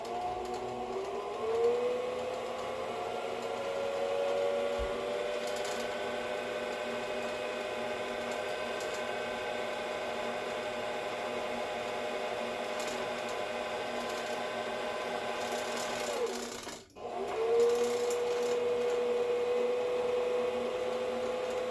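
A sewing machine winding thread onto a bobbin, a steady whirring motor hum that rises in pitch as it spins up, runs evenly, briefly stops, then spins up again, close and moderate in loudness.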